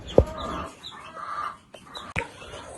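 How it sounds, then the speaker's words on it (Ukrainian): Brooding hens sitting on eggs cluck softly in a farmyard, a short sharp call near the start followed by low murmuring clucks and a brief squawk later. "Там теж сидять он, дві кочки, теж очікуємо, що вони мені вилуплять."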